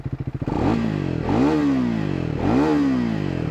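A Triumph Speed 400 motorcycle's single-cylinder engine chugs at idle, then revs up twice in rising and falling swells, loud and close with no talk.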